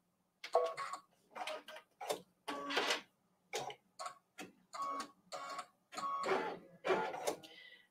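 Embroidery machine sewing a reinforcement tie-off stitch on a table runner, heard as a series of short mechanical bursts of needle clatter with brief pauses between, close and fairly quiet, with no talking.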